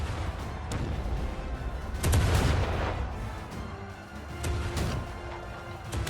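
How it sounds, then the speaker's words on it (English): Catapults fired by trolls in the video game Black Desert Online, heavy booming impacts and rumbling launches against a dense battle din, with a big thump around the middle and scattered later hits. "deal with the ones firing the catapults over there"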